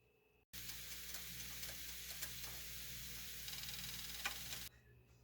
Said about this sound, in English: let's get all this mixed together